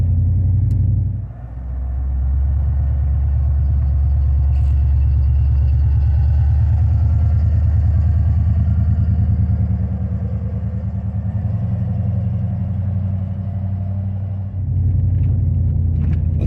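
A 2WD OBS pickup truck climbs a snowy hill on light throttle, its engine a loud, steady low rumble from inside the cab that dips briefly and then resumes, with no talk.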